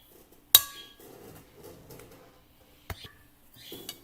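Reese's peanut butter cookie batter is stirred in a bowl. One sharp clink of a utensil against the bowl is followed by soft scraping and a few lighter taps, all close and fairly quiet.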